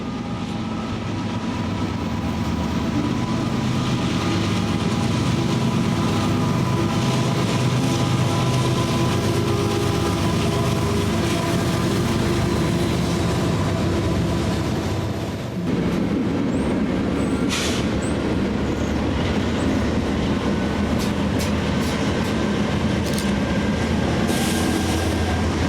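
A KCK freight train rolls steadily past at close range in Kansas City, a loud continuous rumble of railcars with faint wheel squeal and clanks, persisting for the whole stretch.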